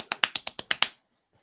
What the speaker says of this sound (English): I was actually clapping.